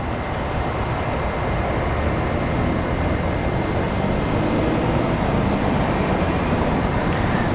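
Steady, loud broadband roar of a United Airlines Boeing 777-200 in Star Alliance livery at Washington Dulles airport, continuous jet engine noise with no clear rise or fall, heard outdoors with no voices.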